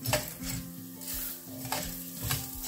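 Coriander seeds tipped into dal roasting in a pan, a close, steady sizzle with scraping stirs and light rattles of metal on the pan, no talk.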